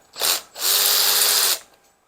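A power tool whirs as it breaks loose head bolts on a 1989 Harley Sportster Evo during an engine teardown, first in a short burst and then in a longer steady whine of about a second, up close and loud.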